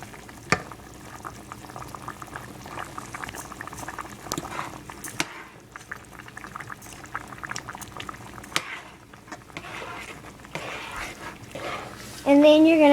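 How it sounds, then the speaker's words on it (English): A pot of chicken and rice boils and simmers steadily with a spoon clinking and stirring through it, while a voice speaks intermittently over the cooking noise. "you're going to take your spoon and you're going to stir it up"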